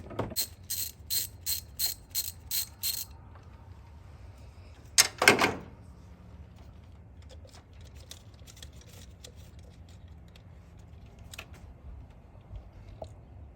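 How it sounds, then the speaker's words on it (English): A hand ratchet loosens the 10mm bolt on the ignition coil of a 2002-2009 GMC Envoy, giving a quick run of sharp, close clicks, then a louder clunk and faint scattered ticks. "You're just gonna get your ratchet and take this off"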